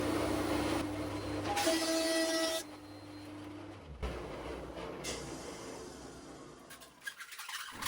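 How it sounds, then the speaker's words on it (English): A wood thicknesser planes thin strips glued to a plywood sledge, a loud machine whine and cutting roar that surges, drops as stock passes through, then resumes and winds down, with no voices. "The thicknesser needs a sledge to send through thin stock"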